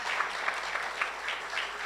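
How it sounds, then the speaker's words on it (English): Applause for Tanzanian innovators at a tech challenge event, a sustained crowd clapping, dense and steady with faint rhythmic swells, heard alone without talk. "give Tanzanian innovators a round of applause"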